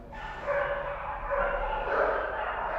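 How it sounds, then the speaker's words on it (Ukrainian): Dogs bark and whine continuously at middle distance, a blurred overlapping chorus of several animals without clear separate yaps, steady throughout. "Дивіться, бачите, теж собаки лають, ну нічого буває, лають."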